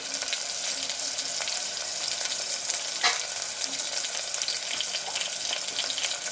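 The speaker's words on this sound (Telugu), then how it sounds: "ఇప్పుడు కట్ చేసి పెట్టిన 2 టమాటాలని ఇందులో వేసుకుందామండి" Chopped tomatoes hit frying Chettinad chicken gravy in a pan, giving a loud, steady sizzle and crackle throughout, with a brief brighter spatter midway and light stirring beneath.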